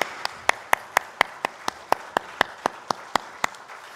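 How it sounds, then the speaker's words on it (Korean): Church congregation clapping together in slow, even unison, about a dozen crisp, loud claps spaced steadily apart. "하나님께 영광의 박수 올려드리겠습니다."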